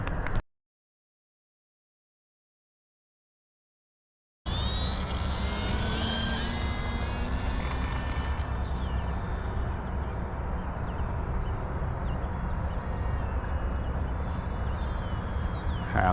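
An Xfly Tasman 1.5 m electric RC airplane's motor whines steadily at half throttle outdoors, heard in a sustained buzzing tone after a few seconds of near silence at the start.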